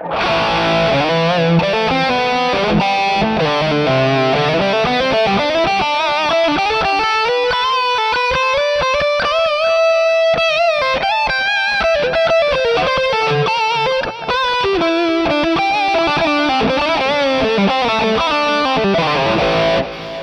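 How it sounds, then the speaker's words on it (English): A distorted electric guitar through a MOOER GE200 plays a sustained rock fusion melodic lead, notes ringing out with echoing delay repeats and a wash of reverb, loud and continuous. "This is the sound with also the delay and the reverb."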